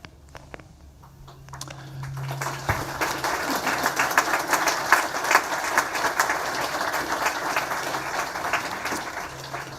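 The audience at a surgical college diplomates ceremony breaks into applause after a medal presentation, building from scattered claps into sustained, full clapping that continues steadily to the end.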